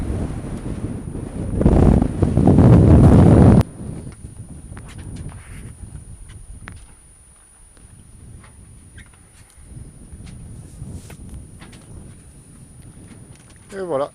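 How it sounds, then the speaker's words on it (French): Steady sea wind rushes across the microphone aboard a sailboat off Corsica, gusting loudly for a few seconds before easing to a lower, constant roar with faint rumbling. "Et le vent tombe un petit peu."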